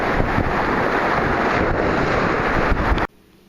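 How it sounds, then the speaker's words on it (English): Strong wind buffets a phone microphone on a bay shore as waves crash on the beach, a loud continuous roar of gusts and surf that cuts off abruptly near the end. "That damn waves are crashing on the beach like the ocean front"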